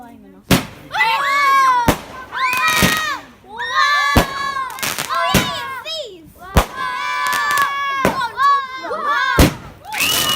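Bonfire Night fireworks go off as sharp bangs and pops, about a dozen bursts at uneven intervals, while children shout and chatter excitedly throughout.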